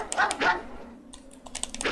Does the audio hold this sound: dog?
yes